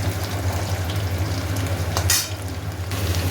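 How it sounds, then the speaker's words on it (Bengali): Sliced onions fry with potatoes and whole spices in oil, a steady loud sizzle close up with one brief scrape of a spatula stirring the pan, and no voices. "এবার পেঁয়াজটা ভালো করে ভাজা ভাজা হোক"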